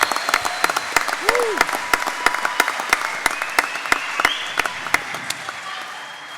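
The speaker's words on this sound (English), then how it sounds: "What about a round of applause for all of the contestants?" A round of applause for the contestants at the Young Farmer of the Year awards night, with sharp scattered claps building over steady crowd clapping, a brief whoop and a voice briefly heard throughout.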